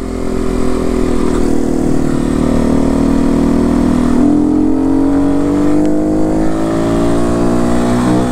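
An enduro motorcycle rides and revs up close, its engine droning loudly and rising steadily in pitch as it accelerates, with no talk.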